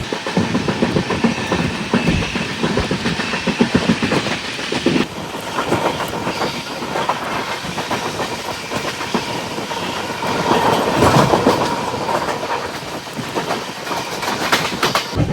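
The Swarna Jayanti Express rolls along the rails at reduced speed in Madhya Pradesh, rhythmic clickety-clack and rumbling, loud and close, intensifying briefly near the end.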